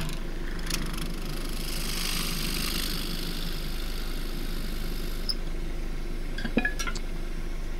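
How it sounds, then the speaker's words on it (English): A depth hole is drilled into tough birdseye Huon pine while woodturning on a lathe. A steady motor drone carries a hissy cutting noise that is strongest early on, and a few faint clinks come near the end. "Right, first off, drill a depth hole"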